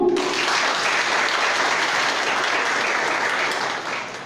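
A congregation at a solemn closing Mass of a Catholic feast gives sustained, dense applause for a small community, loud and steady throughout before easing slightly at the end.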